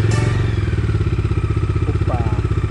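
A Bajaj Dominar 250 motorcycle engine idles close by after being started, a steady rhythmic thumping putter with a brief higher whine partway through.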